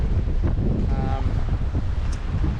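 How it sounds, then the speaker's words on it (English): Steady wind rushing over the microphone with sea noise beneath, aboard the sailboat Momentum on passage toward Port Stephens and Lake Macquarie; continuous and fairly loud, no one speaking. "the wind has picked up a little bit too"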